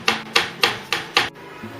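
Five soft, evenly spaced pats of chocolate shavings being pressed by hand onto the sides of a black forest cake, close and quiet, each a brief muffled thump.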